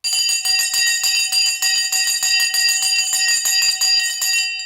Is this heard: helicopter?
no